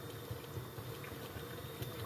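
A pot of water rolls at a steady boil for cooking sela basmati rice for chicken biryani, a continuous close bubbling hiss with no pauses.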